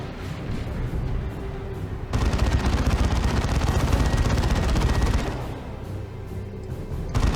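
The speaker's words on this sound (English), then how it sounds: "pew-pewing it with a plasma gun and 3 Inferno Bolters is not going to do a whole lot" Plasma gun and Inferno Bolter fire in a Dawn of War 2 skirmish, a thick, continuous roar of rapid shots and booms that swells loudly for several seconds, then drops back to a steady battle din.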